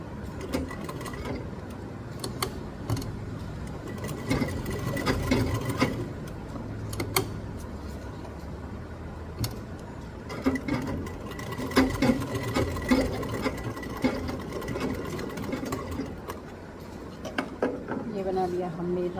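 Household sewing machine stitching fabric in a home, steady mechanical whirring with rhythmic needle clatter in uneven runs, close up, while someone talks over it.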